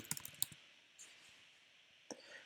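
Brief keyboard typing while setting up Facebook ad targeting: a quick burst of light clicks, then scattered single keystrokes and a final tap, close and fairly quiet with no talking.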